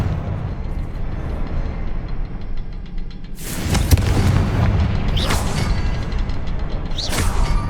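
Confringo fire spell explosions in Hogwarts Legacy, three loud booming blasts at irregular intervals over a steady low rumbling game ambience.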